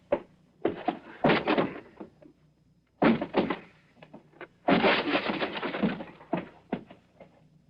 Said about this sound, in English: I'll force the door.